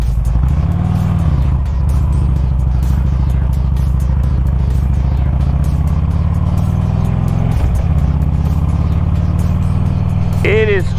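Motorcycle ride on a chilly Florida road, heard as a loud, continuous engine drone with steady rumble and wind, rising in pitch briefly near the end as the rider revs.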